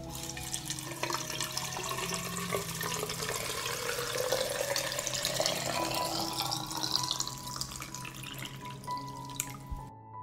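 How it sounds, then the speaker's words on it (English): Boiling water is poured into jars packed with tomatoes, a continuous close trickling and splashing that rises in pitch as each jar fills, with no voices. "This is how I pour the boiling water into the jars."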